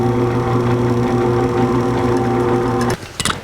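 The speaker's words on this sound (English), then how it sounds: "We'll drill 1/8 inch pilot holes." Power drill running steadily while boring 1/8 inch pilot holes for mounting a Summit Racing poly seat in a 1949 Chevrolet gasser, a close, continuous motor whine for about three seconds before stopping, followed by brief handling clatter.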